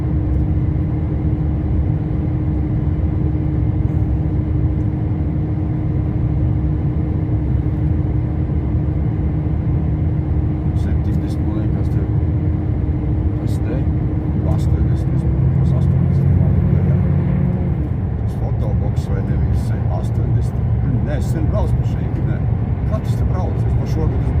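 A car drives through the Bømlafjord undersea road tunnel in Norway, the long tunnel that dips 260 m below sea level. A steady low engine and road rumble runs throughout, with a sustained tonal hum and a brief swell of nearby traffic midway.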